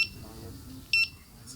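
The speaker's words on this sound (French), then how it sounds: "elle bip" A Begode Master electric unicycle gives one short, sharp electronic beep when tilted, clear against a background of people talking nearby.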